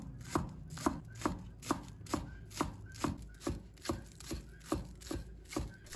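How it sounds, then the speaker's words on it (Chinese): Knife chopping green onions on a cutting board, a steady run of about a dozen crisp, evenly spaced chops, close and clear with no talking. "再准备几根小葱，把它切成葱花。"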